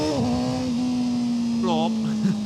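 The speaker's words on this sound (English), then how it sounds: "being able to use the quick shifter, it making funny noises" A Honda CBR600RR supersport motorcycle ridden at regular town speeds, its engine droning steadily with a quick shifter change midway producing a brief rising whine and blip, the rider close by throughout.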